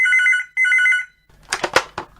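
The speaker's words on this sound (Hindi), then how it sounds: "एक मिनट, हाँ, मैं फोन उठाती हूँ।" A telephone bell rings in two clear bursts indoors in a home kitchen, then falls silent before a voice answers the call.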